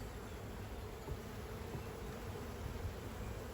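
Honey bees hum around an opened hive as a keeper works it gently, a faint, continuous low buzz that stays steady throughout without any voices.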